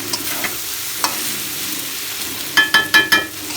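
Dried fish and potato frying with spices in a pan: a soft, steady sizzle, then four quick scraping stirs close by near the end.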